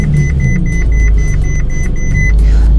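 A Ferrari 458 Italia with a rapid series of regular dashboard chimes over a heavy, loud low engine rumble close by, the beeping stopping near the end while the rumble continues.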